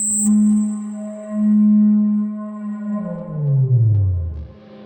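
Synthesized pulse tones in Ableton Live 12, fed through echo feedback into more echo and reverb: sustained buzzy tones that swell and fade, then slide downward into a smeared, reverberant tail.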